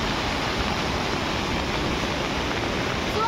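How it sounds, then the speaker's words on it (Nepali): The swollen Dapcha river rushing, a loud, dense and steady roar of fast floodwater close by, with no voices or other sounds over it. "डाप्चा खोला पनि एकदम ठुलो आइरहेछ आज"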